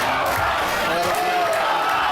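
Cheers and shouts from the House of Glory wrestling audience at the Elks Lodge rise behind a wrestler in a sustained crowd roar, while a commentator talks over the noise.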